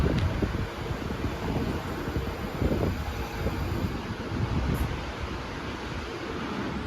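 Washington Metro westbound Silver Line train at a station platform, a steady loud low rumble with broadband noise and wind buffeting throughout, no voices.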